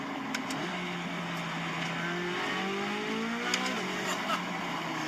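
A 2023 Chevrolet C8 Corvette Z06 pulls hard at high RPM, its engine note climbing in long rising sweeps through the gears, loud and steady with brief clicks and knocks on top and no voices.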